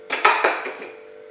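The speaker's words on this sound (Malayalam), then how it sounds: "കുക്കർ അടുപ്പത്ത് വെച്ചു." A pressure cooker holding cut tomatoes is set down on a stove: three or four quick metallic clanks and scrapes, followed by a faint, steady ringing hum.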